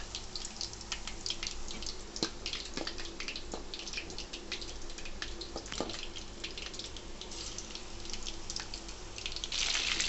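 Marinated chicken pakoda pieces frying in oil, a continuous bubbling sizzle with scattered pops and crackles over about ten seconds and no one speaking.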